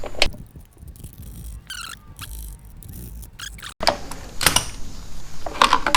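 Small 5mm bolts coming out of the sprocket cover on a 2007 Yamaha V-Star 1300 up on a lift, with intermittent metallic clicks and ratcheting of hand tools, close and fairly quiet, with no one talking.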